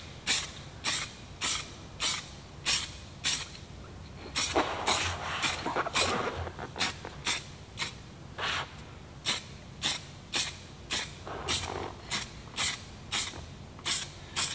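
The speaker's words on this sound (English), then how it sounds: "We've got professional spray paint" A spray can of primer hisses onto car wheels in quick, evenly spaced bursts, with one longer continuous spray partway through, close and fairly quiet.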